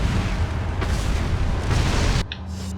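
Incendiary grenade explosions in the video game Resident Evil 4: dense, sustained booming blasts with crackling bursts that cut off sharply near the end, leaving a quieter hum.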